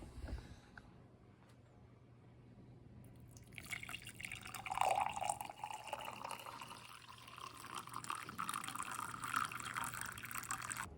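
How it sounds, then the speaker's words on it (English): Water poured over dried lavender flowers in a tea ball, quiet at first, then a steady trickling fill with drips building up and continuing to the end. "All right, let's pour some water in there and see how it tastes."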